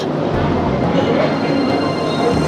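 Rumbling tram ride through Vienna's old city, a steady broadband roll of wheels on rails and car body noise, fairly loud and continuous with faint ticking.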